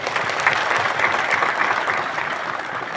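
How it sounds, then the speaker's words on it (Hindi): Audience applause at a ground-breaking ceremony attended by India's Law and Justice Minister, a steady, dense wash of clapping from a sizeable crowd that holds evenly for the whole stretch with no voices over it. "सबको सम्मिलित किया भूमि पूजन के लिए। इसके लिए तो CJI साहब को आप बहुत ताली बजा के धन्यवाद करना।"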